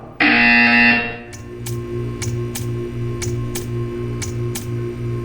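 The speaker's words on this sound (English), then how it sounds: "When you hear the buzzer, stare at the art." A loud, steady electronic buzzer blares for about a second in the game Portal 2, then gives way to a soft repeating tick with a low hum underneath.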